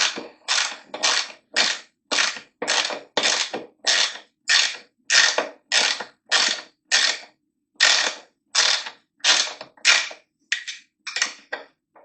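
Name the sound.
removing bolts from Suzuki GSX750F airbox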